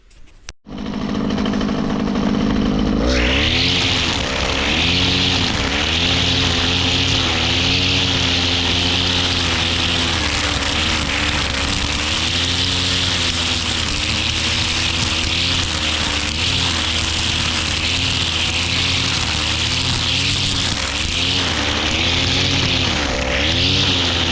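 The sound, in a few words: string trimmer (rotofil) cutting brush with nylon line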